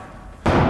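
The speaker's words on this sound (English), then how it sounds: "When the bag is swinging, as soon as it comes in, bang." A single heavy punch lands on a swinging boxing bag, a sudden loud thud breaking in after quiet room tone and followed by a sustained broadband rumble from the bag.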